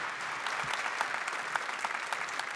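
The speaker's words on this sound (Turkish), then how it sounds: "Alkışlarınızı aldık" An audience applauding in a Turkish studio music broadcast, dense steady clapping that holds at an even level throughout, heard at a moderate distance.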